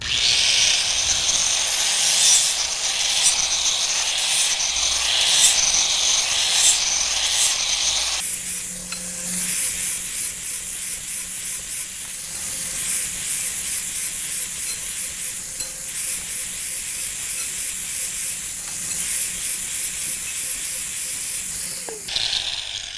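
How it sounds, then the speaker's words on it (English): An angle grinder fitted with an 80 grit sanding disc smooths the sharp metal edges of a utility trailer frame, a loud, continuous high hiss that shifts pitch midway and runs unbroken with no talking. "I just put it on a grinder and hit the sides real fast"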